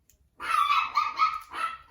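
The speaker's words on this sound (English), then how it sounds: "dog's barking in the background" A dog barks repeatedly in short bursts somewhere in the house during a figure unboxing, clear but not close, with brief gaps between the barks and no talking.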